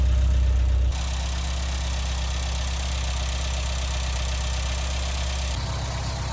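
Engine of a mk1 Vauxhall Astra idling while warming up, a steady low rumbling drone recorded up close, with a brief shift in tone near the start and end, and no talking.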